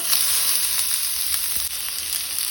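Garlic and onion fry in a pan for a Goan red lentil curry, giving a steady, loud, continuous sizzle with no pauses and no voices.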